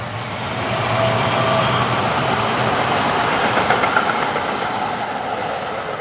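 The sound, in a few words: trains passing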